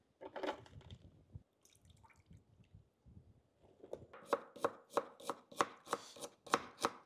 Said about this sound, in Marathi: अशा पद्धतीने आपण सर्व कांदे जुन्याने कटिंग करून घेऊ।